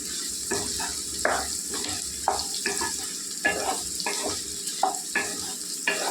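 Raw potatoes frying with crushed garlic in a pan, a constant close sizzle broken by regular scraping stirs of a spatula.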